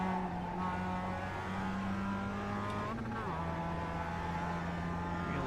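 A Mazda MX-5 engine in iRacing on the Charlotte Roval drones steadily at high revs, then drops pitch sharply on a downshift midway through, loud and continuous with faint talk underneath.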